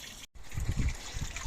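Water running steadily into a liner while a garden pond fills outdoors, a continuous close rushing trickle with low burbling underneath and a momentary dropout near the start; no voices.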